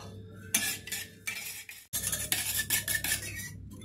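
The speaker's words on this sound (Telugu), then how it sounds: "1/2 సినమిన్ పౌడర్, పాలు వేసి విస్కర్ సాయంతో దీన్ని బాగా కలుపుకోవాలి." Whisk stirring cinnamon powder and milk in a bowl for a French toast batter, a brisk clinking, scraping rhythm in quick bursts with a short pause midway, close and moderately loud, no talking.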